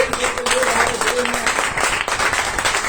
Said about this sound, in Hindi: पहले हम एक बार तालियां चाहेंगे